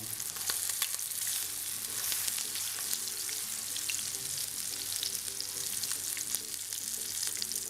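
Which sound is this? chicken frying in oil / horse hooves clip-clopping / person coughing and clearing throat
chicken frying in oil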